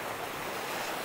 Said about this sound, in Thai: ลมแรงแรงจ้าวันนี้ทะเลเดนมาร์ก